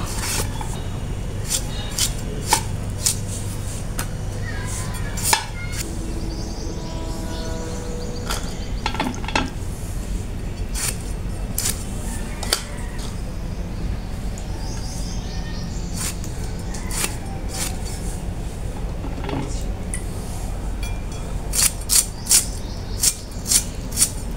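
Knife slicing peeled potatoes on a cutting board for a home-cooked meal, a steady run of crisp close chops and scrapes over constant background hiss, with faint birdsong outdoors.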